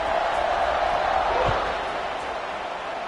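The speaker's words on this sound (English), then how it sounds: "this crowd is buzzing after that last score" A football stadium crowd buzzing after a score, a broad, steady roar of many distant voices that eases off slightly toward the end, with a single thud partway through.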